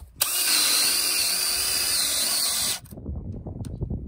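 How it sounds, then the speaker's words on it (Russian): A Makita DF001G or Dewalt DCD999 cordless drill drilling at third speed, a loud steady high-pitched whine for under three seconds before cutting off, followed by rustling handling noise. "Третья скорость на сверлении."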